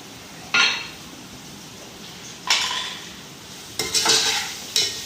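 Capsicum and carrots stir-frying in a pan for chicken vegetable rice, a soft sizzle broken by several loud bursts of tossing and scraping as the vegetables are mixed, no talk.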